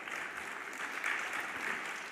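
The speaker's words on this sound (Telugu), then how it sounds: "వారి కొరకు ఒకసారి చప్పట్లు కొట్టు." A congregation claps together in a brief round of applause, a soft, dense, steady patter heard from some distance, lasting only a couple of seconds.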